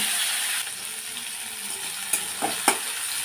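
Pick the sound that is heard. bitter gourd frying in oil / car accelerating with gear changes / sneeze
bitter gourd frying in oil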